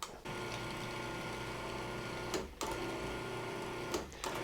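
A food processor pulses flour, sugar and salt for butter tarts, a close whirring motor drone in bursts separated by two brief stops.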